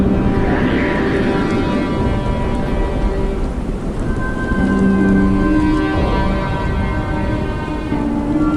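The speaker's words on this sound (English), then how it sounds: "Rain effect makes me so happy." Heavy rain pouring continuously as a loud, dense hiss throughout a Warhammer Imperial Guard scene, with a low rumbling bed underneath and faint tonal background sounds mixed in.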